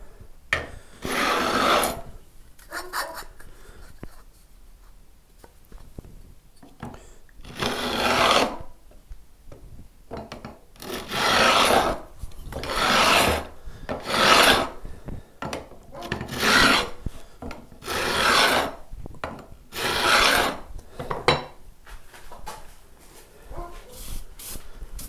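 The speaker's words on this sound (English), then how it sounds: "you simply slot your file into that and run the block of wood along the fretboard." A metal file set in a wooden block is run along the frets of a Telecaster neck to bevel the fret ends: repeated long rasping strokes, steady and fairly close, with brief pauses between passes and no talking.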